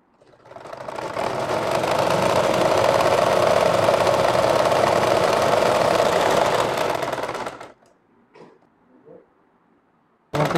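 A sewing machine stitches a double seam on a gathered frock sleeve, a loud, close, steady whir that lasts about seven seconds before stopping, followed by a few faint handling noises.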